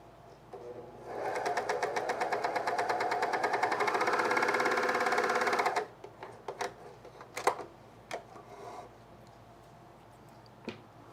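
A home sewing machine stitches a fleece pullover in a fast, steady, close-up run for about five seconds, then stops, followed by scattered light clicks and handling noises.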